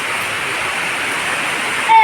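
Light monsoon drizzle in Kerala, a steady broadband hiss of rain falling continuously and evenly throughout, moderately loud with no voices.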